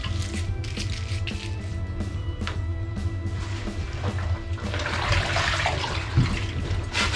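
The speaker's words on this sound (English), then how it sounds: "I'm going to use some of the undiluted soap on a brush to clean the more stubborn spots." Sloshing water and wet scrubbing noises as a brush scrubs an Osprey backpack in water with Nikwax Tech Wash soap run steadily throughout, with splashing building louder toward the end; no one speaks.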